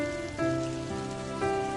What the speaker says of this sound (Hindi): और वूसू में अक्सर दिखने वाली बारिश की आवाज।